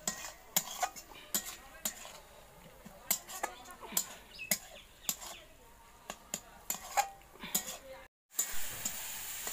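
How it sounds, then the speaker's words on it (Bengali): Tomatoes sautéed in a pan, with a soft sizzle under repeated sharp clinks and scrapes of a utensil stirring, faint overall, ending in a brief dropout. "তো এবার টমেটোটা দিয়ে দিচ্ছে, তো এটা দিয়ে কিছুক্ষণ আবার কষানো হবে।"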